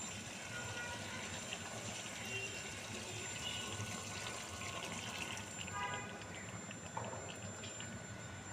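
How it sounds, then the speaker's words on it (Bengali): Water pours steadily into a cooking pot of browned chicken masala, making a continuous rushing, splashing sound at close range for several seconds, with no talk. "কষানি শেষ, এখন পানি দিয়ে দেব"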